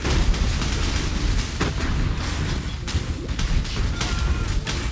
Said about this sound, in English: Everything just blows up in one shot with an explode chest.